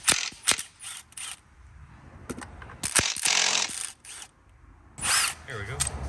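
Ratchet fitted with an 8mm Allen socket removing bolts on a Toyota 3.3L 3MZ-FE engine, heard as close bursts of clicking pawl mixed with metallic clanks and scrapes, some of them quite loud.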